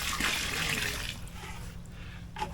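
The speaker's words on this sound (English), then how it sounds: "so I'll just dump some water in there with the bucket" Water dumped from a bucket onto garden soil while planting lettuce, a short splashing pour that gurgles and fades within a couple of seconds, close and alone.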